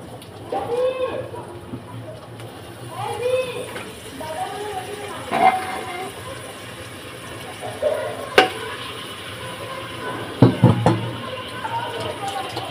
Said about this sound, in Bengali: এবার আমি এর মধ্যে মাংসগুলোকে ঢেলে দেব।